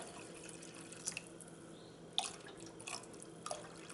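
Water added into dal in a cooking vessel for dal dhokli, with faint, intermittent splashes and drips over a quiet background.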